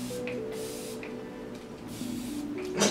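Short hissing bursts of makeup setting spray repeat a few times, with a louder, closer blast at the end, over a quiet background.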